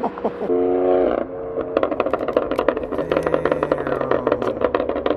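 A stage 2 tuned BMW M3 Competition with a decat downpipe and loud burble tune revs, then crackles and pops in rapid bursts over its deep exhaust drone, heard from nearby.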